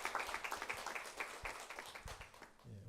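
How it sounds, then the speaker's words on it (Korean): A church congregation at a pastor ordination ceremony claps in congratulation, a faint, scattered applause of moderate density running steadily throughout, alone without voices. "우리 박수로 축하하도록 하겠습니다"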